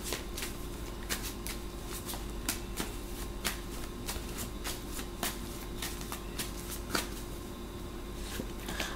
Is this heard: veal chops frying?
no